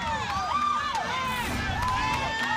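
A crowd at a college gymnastics meet lets out rising and falling woos during a bar routine with a double layout, the voices sweeping in pitch and mixing with cheering at moderate distance.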